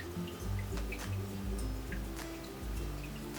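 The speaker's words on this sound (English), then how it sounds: "Then I start washing my face." Water splashing and dripping at a bathroom sink while someone washes their face, close and fairly quiet, in irregular bursts with short drips between.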